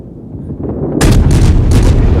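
Rapid ship gunfire in the naval combat game World of Warships, a muffled rumble that breaks into loud, closely spaced booming shots for the last second or so, with no talk.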